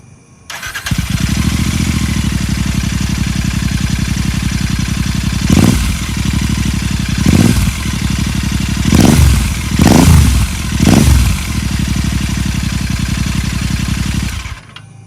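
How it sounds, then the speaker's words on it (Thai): A Royal Enfield 650 GT motorcycle with an aftermarket performance exhaust starts and settles into a loud, steady, throbbing idle, broken by five sharp throttle blips before it cuts off. "เดี๋ยวเรามาฟังเสียงท่อนะครับ เป็นท่อดัดแรงนะครับ เสียงจะเป็นยังไงนะครับ โอเคเดี๋ยวขอสตาร์ทก่อนนะครับ"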